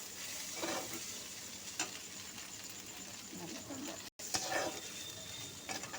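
Chow mein tossed in a pan with tomato sauce, a soft, close sizzle broken by a few distinct scrapes and stirs of the utensil, fairly quiet overall.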